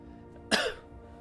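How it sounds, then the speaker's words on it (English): One sharp, close cough bursts out abruptly in an otherwise quiet room, rasping briefly before it fades into low background hum. "Apologies for the coughing."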